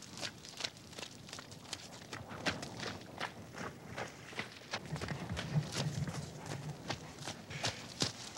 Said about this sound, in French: Cette façon-là de courir pour un cheval, ça s'appelle le trot.